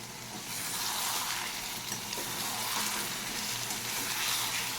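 Spices and salt with chilli and turmeric powder frying in a pan for Kolkata shahi biryani, a steady close sizzle running unbroken throughout with no talk.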